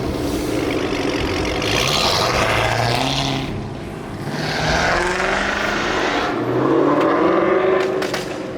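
A supercharged Mustang GT and a Hellcat Challenger rev their engines, loud swelling roars rising and falling in waves with whining tones, close and continuous, with no talking.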